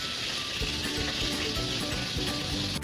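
Fish fries in a pan of hot oil during a school cook-off, a steady dense sizzle that runs unbroken and close throughout, with no voices.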